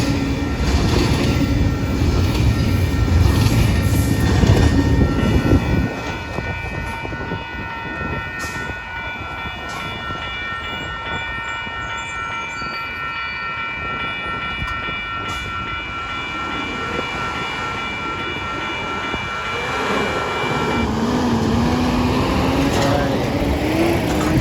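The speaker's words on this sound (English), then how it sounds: "The end of the train right there." A train rolls past on the railway at Barron Avenue, a loud rumbling roar of wheels and cars that eases into a steady rattling clatter, with a faint horn-like tone and a car nearby.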